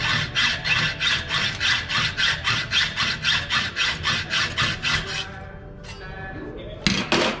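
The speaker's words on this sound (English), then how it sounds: "get it tightened down on that 4th link, and then we are going to cut it in half" Hand saw cutting through a metal horseshoe puzzle link clamped in a vise, a steady rhythmic back-and-forth rasp of about eighteen strokes, close and loud, then stopping, followed by faint clinks and a sharp knock.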